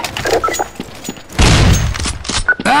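Gunfire in Counter-Strike: Source, with sharp percussive shots, a loud burst of fire in the middle and scattered impacts and metallic clinks around it, close and punchy.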